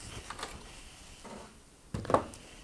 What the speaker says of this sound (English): pressing this button on the back, which separates the wand from the hose